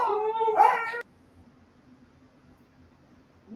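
Dogs in a home give a brief, high, wavering whine and yelp lasting about a second, fairly close, then fall quiet with only faint room noise after.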